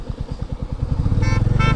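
A motorcycle engine runs close by with a pulsing, throbbing idle that rises into a steadier drone, while a horn honks twice in quick bursts toward the end.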